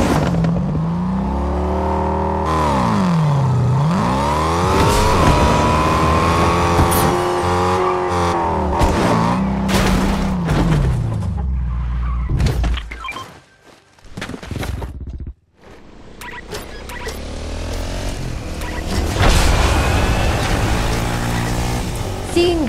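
A car drives in Fortnite, its engine tone swooping up and down with revs and turns for about ten seconds, then choppier bursts, bumps and game effects follow, all loud and close.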